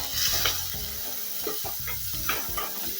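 Garlic and green chilies sautéing in peanut oil in a pan, a close crackling sizzle with repeated stirring scrapes and clacks of a spoon, no voices over it.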